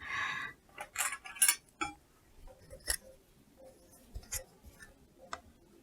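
Scissors snipping through bias-cut fabric strips for an apron, a handful of separate crisp cuts spaced irregularly, close and fairly quiet.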